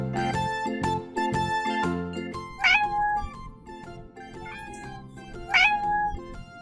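A cat meowing, two clear rising meows a few seconds apart over backing music, close and fairly loud.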